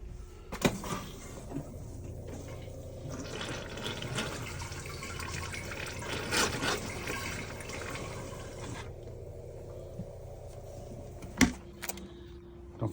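Antifreeze runs from an RV faucet while a 2024 Keystone Passport 3300BK is winterized, a quiet steady trickle and splash with some clunks and a sharp knock near the end.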